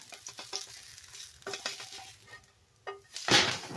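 A homemade oat patty is flipped in a hot pan: a few quick clatters and taps, then bursts of close sizzling that flare up loudly near the end.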